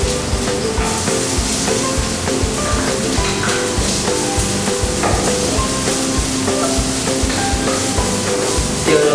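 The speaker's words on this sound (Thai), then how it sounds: "เราก็จะใส่กระเทียมลงไป เจียวให้กระเทียมกลิ่นหอม" Garlic fries in hot oil in a pan, a loud, steady sizzle with bubbling and crackling that continues throughout without voices.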